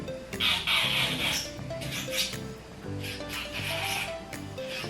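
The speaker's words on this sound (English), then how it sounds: "Turn it on and then leave it at 1, and we're gonna blend the tip" A cheap portable electric nail drill on its lowest speed files and blends an artificial nail tip, a steady close buzzing hum with scratchy rasping strokes running throughout.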